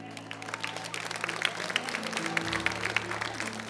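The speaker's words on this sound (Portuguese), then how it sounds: "Um aplauso para eles" A church congregation applauds a couple celebrating 40 years of marriage, with scattered clapping and crowd noise at moderate level under a sustained organ or keyboard tone that shifts pitch midway.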